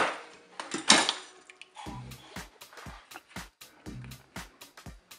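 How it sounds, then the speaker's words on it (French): Metallic clatter and clicks of a Cookeo multicooker lid being handled and opened, a few sharp knocks followed by quieter, irregular taps and rattles close by. "On va éteindre notre Cookéo, on va l'ouvrir."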